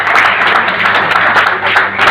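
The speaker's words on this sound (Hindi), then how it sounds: "एक जोरदार तालियां बनती है बात की।" Hearty audience applause at a Rotary Club installation ceremony, loud continuous clapping from a crowd filling the whole brief stretch.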